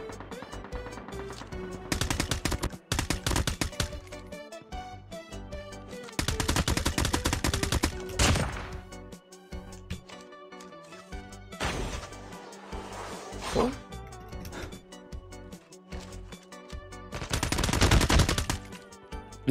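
Gunfire in Call of Duty Mobile, with repeated bursts of rapid automatic fire and scattered single shots. Loud, close volleys come in clusters with short pauses between them, over a steady game backdrop.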